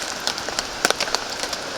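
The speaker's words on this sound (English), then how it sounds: "The sound you hear is the sound of rain on Cuban fiber." Rain pattering on a Cuben fiber tarp overhead, a steady dense patter with scattered sharper drop taps, close and fairly quiet, no talking.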